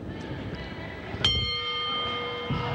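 A wrestling ring bell ends a match with a single bright clang over a steady arena hubbub, its metallic ring lingering and slowly fading.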